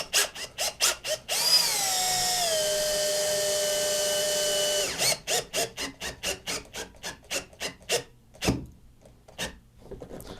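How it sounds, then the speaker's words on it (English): Power drill boring a pilot hole into a laminated wooden guitar neck, a steady whine running for several seconds between bursts of short rhythmic rasping or scraping strokes, close and fairly loud with no talk. "make sure that pilot hole is large enough. And go slow."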